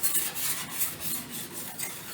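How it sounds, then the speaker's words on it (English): Rhythmic rasping strokes of sandpaper rubbing back and forth on a new car part, about eight even passes at a steady pace with light pressure, close up and with no voices. "Let the sandpaper do its job"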